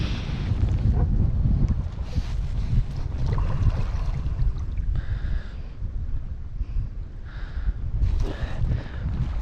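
Gusty wind buffets a small dinghy moving quickly on Kingsbridge Estuary near Frogmore Creek, a steady low roar of wind noise with surges and faint water sounds, no voices.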